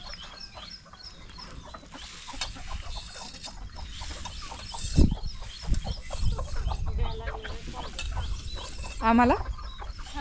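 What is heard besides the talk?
chickens clucking at morning feeding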